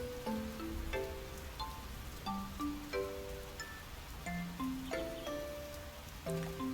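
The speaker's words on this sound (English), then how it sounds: "Rain was never like this in the city." Rain falls in a farm video game, a soft steady hiss sitting beneath a plinking, bell-like melodic music track that carries on throughout.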